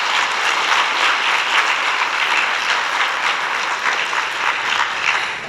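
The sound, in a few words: audience applause and clapping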